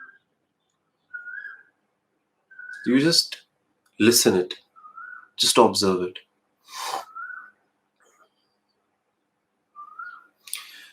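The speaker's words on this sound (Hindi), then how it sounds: "यहाँ पर पेड़ पर एक कोयल का घोंसला है। तो आपको अगर उसकी आवाज़ आ रही है" An Asian koel calls from a tree in a garden, giving short, far-off whistled notes at intervals, while someone speaks in bursts in the foreground.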